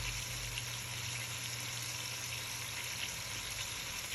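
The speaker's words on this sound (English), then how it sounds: "Just searing away." Chicken searing in a pan for adobo, a steady continuous sizzle and crackle of frying, moderately quiet and unchanging throughout with no talking.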